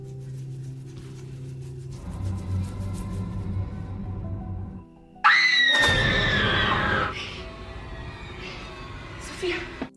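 A woman in an Indonesian horror film lets out a sudden, piercing scream midway through. It rises sharply and holds for about two seconds over dramatic score and other film sounds before fading back into the music.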